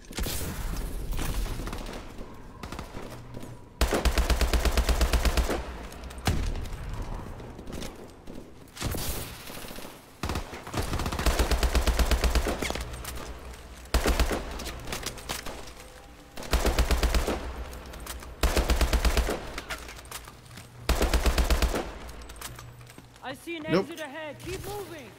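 Bursts of automatic gunfire in Call of Duty: Advanced Warfare on a snow level, loud repeated volleys separated by short gaps, with voices talking between and over the shooting.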